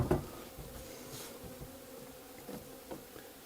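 Honeybees from a weak colony buzz steadily around the frames of an opened Warré hive after a puff of smoke, a faint continuous drone with a few soft knocks of frames being handled.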